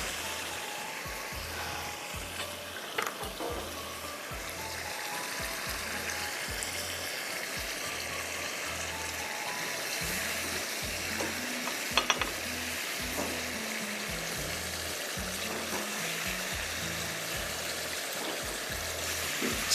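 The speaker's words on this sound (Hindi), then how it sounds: "सॉस में डालने से पहले एक दफ़ा रीफ्राई करेंगे।" Fish pieces being refried in a pan for Schezwan sticky fish sizzle softly and steadily, with rhythmic stirring scrapes and occasional faint clinks, no voices.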